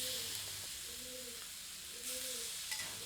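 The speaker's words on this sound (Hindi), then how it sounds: "अब मैरिनेटेड चिकन को इस पैन में ग्रिल करते हैं।" Marinated chicken pieces sizzling in a pan with a little oil over medium heat, a steady close frying hiss with faint stirring and scraping touches, no voices.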